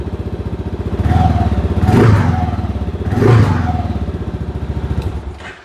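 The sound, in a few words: Kawasaki KLR motorcycle engine starting and idling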